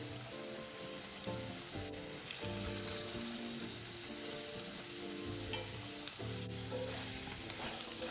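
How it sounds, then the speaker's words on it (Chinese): Potato chunks fry in shallow cooking oil in a pan, with a steady, busy sizzle and the occasional scrape as the pieces are turned, all under background music. "油煎中的馬鈴薯記得要翻面，盡可能將每一面都煎一煎。"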